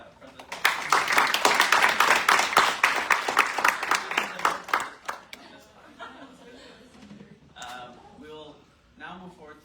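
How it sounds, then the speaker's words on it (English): A room of student senators at a senate meeting claps for several seconds, bright rhythmic hand claps that fade out into chuckles and scattered talk. "a round of applause for President."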